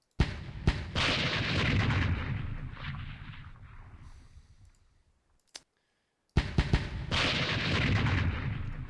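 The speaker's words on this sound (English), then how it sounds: "81mm mortar will blast this AA gun here" Mortar fire in a World War II Pacific wargame set on Kwajalein: an 81mm mortar gives two loud, sustained blast-and-rumble bursts separated by a near-silent gap, with sharp clicks at the start of each burst.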